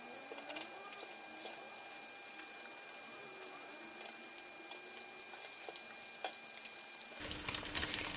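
A thin egg omelette for gimbap fries in a pan with a soft, continuous sizzle, quiet and close, with a few faint clicks and a louder clatter near the end.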